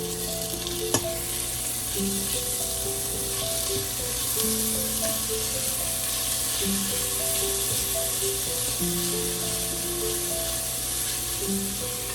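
Green chillies, garlic, ginger and onion frying in a pan give a steady, close sizzle throughout, with faint tonal hums in the background and one small clink near the start.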